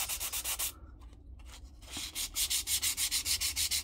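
A wooden cube is hand-sanded into its V-grooves, giving steady rapid back-and-forth scratchy rubbing strokes, close and fairly loud, with a short pause in the middle before the rhythmic strokes pick up again.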